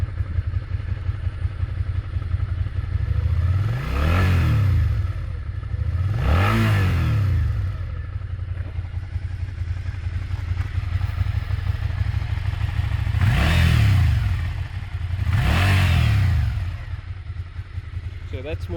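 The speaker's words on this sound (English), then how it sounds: "It's quite a V-twin engine voice." Suzuki Gladius motorcycle with a V-twin engine and twin exhaust pipes: a steady, throaty idle rumble punctuated by four loud throttle blips that rise and fall, heard close up with someone talking over parts of it.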